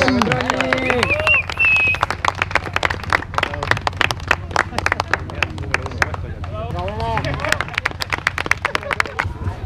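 A crowd at a charity race applauds a runner at the finish, brisk claps over lively outdoor chatter and voices, with a whistle-like tone early on.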